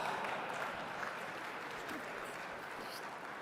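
Audience applause at a tech conference session, a steady wash of clapping from a crowd that holds at an even level for a few seconds and fades slightly near the end.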